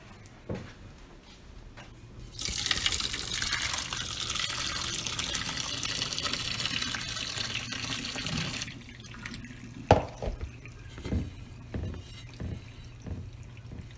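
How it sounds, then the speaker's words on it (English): In a home kitchen, liquid is poured slowly and steadily into a cooking pot, a smooth splashing stream lasting about six seconds, followed by a few light clinks and taps. "Just gonna slowly pour it."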